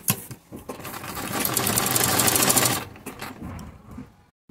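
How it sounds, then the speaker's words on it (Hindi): Sewing machine stitching a zigzag embroidery fill for a decorative design, running in a steady whirring, rapid-ticking burst for a couple of seconds after a few short starts, then slowing and stopping. "इसी सिलाई लगा के जिग जैग लगा के तैयार किया है"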